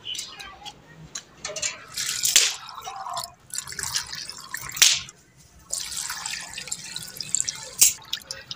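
Running water splashes and drips as vegetables are washed in a village kitchen, uneven bursts of trickling and dripping with a few sharper drops, fairly close and moderately loud.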